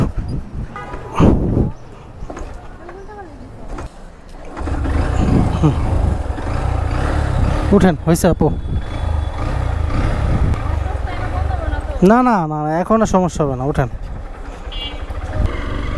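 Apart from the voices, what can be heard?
motorcycle engine finally starting after trouble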